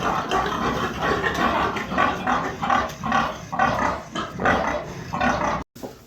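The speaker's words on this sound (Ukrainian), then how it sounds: "Ну, ось є трошечки свинорозборки" Piglets squabbling and fighting on a small pig farm, giving repeated loud squeals and grunting bursts in a steady rhythm, close by, with a brief cut near the end.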